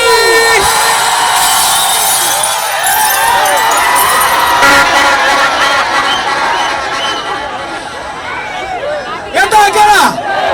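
A large crowd at a wedding celebration cheers, whoops and shouts continuously, a dense loud roar of excited voices with an amplified announcer hyping them up over the din.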